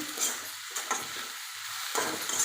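Chopped vegetables and onions are stirred in a pan, a close sizzle broken by several rough scraping strokes and short pauses.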